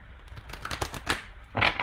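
Tarot cards are shuffled in quick, crisp riffling bursts, close and moderately quiet, with no talking.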